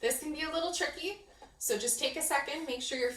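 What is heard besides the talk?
No everyday noise stands out behind the speech.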